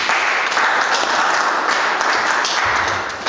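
A church congregation applauds to acclaim the king, sustained dense clapping running steadily throughout at close range with no pauses and no talk over it.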